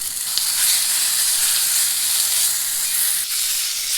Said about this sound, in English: So I'm cooking this on the lowest heat possible and just trying to get it to thaw out